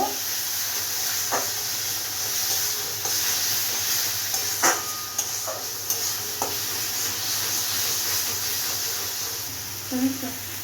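Cumin and coriander powder sautéing in oil in a pan for a rohu/pabda fish curry, a steady close sizzle and hiss with scattered scraping stirs throughout.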